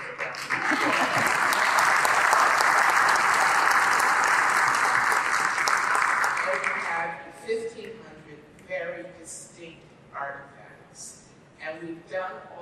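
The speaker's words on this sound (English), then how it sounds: "that deserves a round of applause" Audience applause at an event about the Harriet Tubman home, a dense, loud crowd of clapping that holds steady for about seven seconds and then fades out, followed by a speaker's voice continuing alone.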